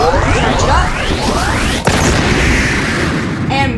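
A dragon's charged heat wave cannon attack in the Blox Fruits video game builds through rising, sweeping whooshes. It then lets go a sharp crack and a loud, roaring blast that rumbles on to the end.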